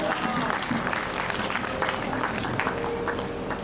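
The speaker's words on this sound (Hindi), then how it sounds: "मैं चाहूंगा एक बार जोरदार तालियां उठे" Dense, sustained applause from a large crowd at a poetry symposium in Gogunda on Maharana Pratap Jayanti, loud and continuous throughout with no gaps.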